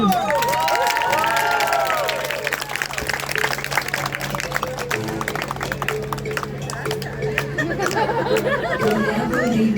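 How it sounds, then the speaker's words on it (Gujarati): A crowd at a kite festival in Ottawa claps and cheers, with loud, dense applause and excited shouts mixed with a constant hum of chatter throughout. "જોરદાર મિત્ર એમને તાળીઓથી વધાવીએ."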